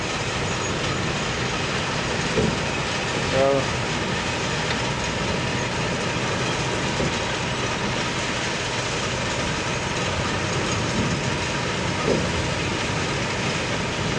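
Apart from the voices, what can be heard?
Weyerhaeuser lumber mill at night, Raymond, Washington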